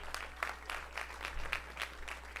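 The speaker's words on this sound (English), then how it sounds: "Can we give a giant round of applause to all the panelists real quick?" A small event audience applauds panelists at an investor masterclass session, a steady patter of clapping from a modest crowd at moderate level, without talk.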